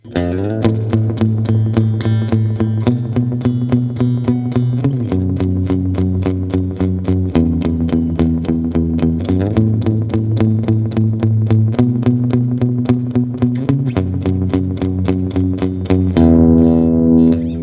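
An electric guitar plays a distorted riff through a chain of JHS pedals, with reverb placed after the cab. Picked notes ring with sustained feedback-tinged tones, loud and continuous, and no voices are present.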